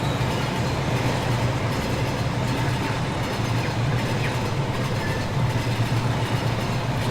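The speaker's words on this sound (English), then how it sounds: "There's our fuel train again." Model fuel train from the Rolling Line game running steadily on track, a continuous rumbling rail noise with faint rhythmic clatter, even and unbroken throughout.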